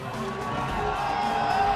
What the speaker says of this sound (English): The crowd are making a lot of noise.